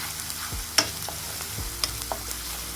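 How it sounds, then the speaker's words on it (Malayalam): Ginger and spices frying in a pan for pineapple pickle, a faint steady sizzle broken by a few sharp stirring scrapes and taps, no talking. "എല്ലാം ചേർത്തിട്ട് നന്നായി മൂപ്പിച്ചെടുക്കുക"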